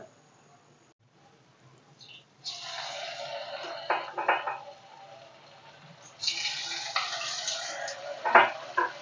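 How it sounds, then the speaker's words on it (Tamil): Broadband sizzling and crackling from potatoes deep frying in hot oil, rising in two louder bursts with a steady hiss between. "நம்ம எண்ணெயில் பொரித்து எடுத்துக்கலாம்"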